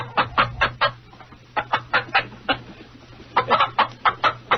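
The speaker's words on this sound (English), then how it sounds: "Chicken." A chicken clucking sound effect plays alone as quick bursts of clucks in three clusters, close and clear, separated by brief pauses.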